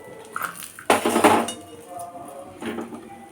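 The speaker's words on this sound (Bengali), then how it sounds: "এবার আমি বড়িগুলো তুলে নিচ্ছি।" Metal utensil scraping and clinking against a pan while fried lentil dumplings (bori) are lifted out, a few sharp clattering bursts close by, the loudest in the middle.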